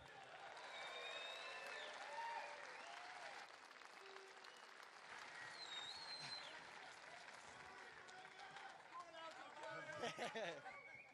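Live audience at a Fight Night Liverpool Q&A applauding and cheering a guest's introduction, sustained clapping with whoops and crowd noise throughout, swelling again near the end.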